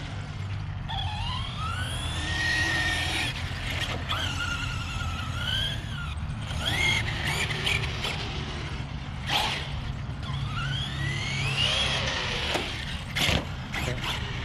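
An Arrma Kraton RC truck tears around a skate park, its electric motor whining up and down in rising and falling sweeps, with tires scuffing and brief clatters over several passes.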